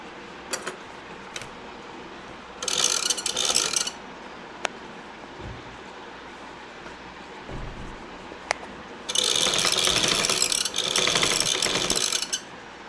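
An electric sewing machine stitching piping onto a churidar neckline runs in two rapid mechanical bursts, a short one and a longer one, with a few isolated clicks in between against a steady background hum.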